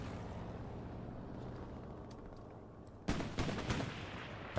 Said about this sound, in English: the strafing run comes through and tears at least one of them to pieces